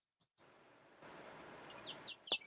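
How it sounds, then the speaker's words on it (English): Birds chirp outdoors in a few quick high tweets over soft steady background hiss, faint and brief, growing slightly louder at the end. "I hear the birds."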